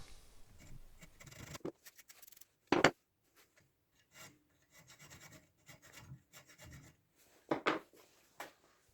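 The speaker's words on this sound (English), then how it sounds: "shaping it using a hacksaw and a bunch of files" Rasping strokes of a hand file shaping a plastic miniature axe head, a few loud scrapes and many softer ones in irregular bursts, close up with quiet pauses between.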